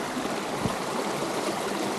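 A river near Edale in the Peak District, crossed on stepping stones: close, continuous rushing and babbling water with a steady hiss and a brief splash, no voices.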